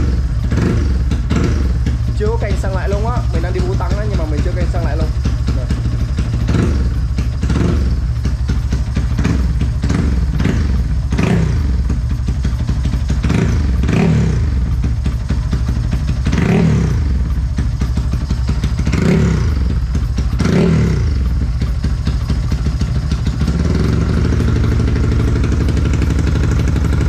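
A Yamaha Exciter motorcycle engine runs steadily up close with a loud, continuous mid-pitched drone and repeated rev swells, while someone talks over it.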